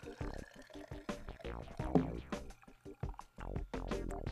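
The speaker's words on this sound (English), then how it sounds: "We'll put the funnel on and pour our rain in." Rainwater is poured from a rain gauge into a funnel, trickling and splashing close by in a short, uneven stream.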